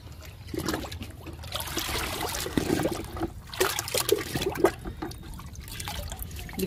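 Liquid fertilizer is poured onto garden plants, a steady close trickle and splashing of liquid that rises and falls in strength throughout, with no one talking.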